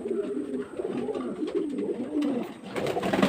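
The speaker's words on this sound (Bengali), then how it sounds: "আর এখানে তো নলগুলো ডাকাডাকি শুরু করে দিয়েছে।" Pigeons coo in a rooftop loft, soft rolling low calls overlapping continuously from several birds, close and fairly clear.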